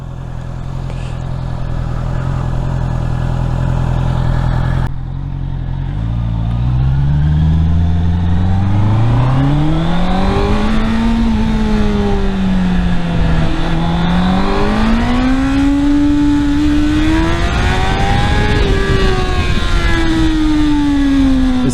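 A Honda CBR650R motorcycle on a closed road at night idles with a deep steady hum, then pulls away loud and close, its inline-four rising and falling through several revving climbs and gear changes, with no talk.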